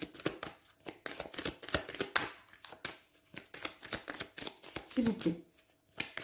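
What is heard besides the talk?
shuffling tarot cards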